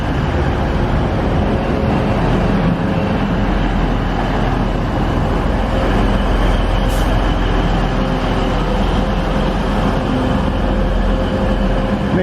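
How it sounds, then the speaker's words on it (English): A TransPennine passenger train pulls into a station platform, its steady rumble and wheel noise continuous and fairly loud throughout, with no voices. "Meanwhile there's a Transpennine coming in, and that's going to Manchester Airport."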